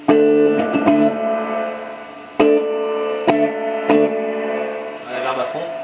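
Electric guitar through an M.P.Electronics effects unit with reverb set halfway, plucked notes and strummed chords ringing out with a moderate reverb tail, several distinct attacks across a few seconds.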